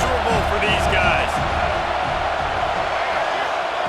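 Loud roar of a stadium crowd at a Penn State versus Alabama college football game, a dense, steady wall of noise with whoops and cheers rising early, under a commentator's voice.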